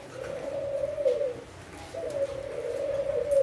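A newly imported Thai spotted dove with a red-spotted, black-collared neck coos close by, two drawn-out rolling coo phrases in succession with no talking.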